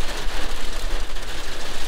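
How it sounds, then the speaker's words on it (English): Hail or snow pelting a Mazda Bongo van during a sudden storm, a dense, steady hiss of tiny impacts with a low rumble underneath, loud and continuous with no voices. "and now it's snowing, or hail, whatever it is."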